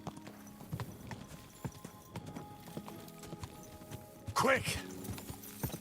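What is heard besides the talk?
horse hooves clip-clopping, Kingdom Come: Deliverance 2 video game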